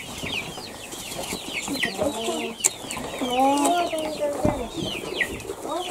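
Chickens and chicks cluck in a village yard in summer, soft repeated calls rising over a busy rural background of birds and farm noise, with occasional nearby voices.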